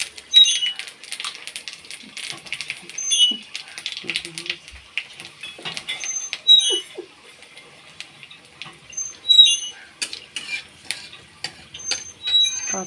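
Panch phoron spices tempering in hot oil with dried red chillies, a faint irregular crackle and popping of seeds sizzling close by, spattering in bursts that come and go, with occasional soft kitchen clinks.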